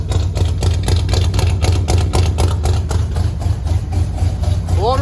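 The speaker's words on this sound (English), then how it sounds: "Sounds like we're down a cylinder." International truck engine running rough and missing a cylinder, a steady low idle with an uneven, lumpy beat close by, no talking over it.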